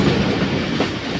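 Steady, close rumble of the Thal Express running on its rails, dense wheel clatter filling the moment at an even loudness, with no one speaking.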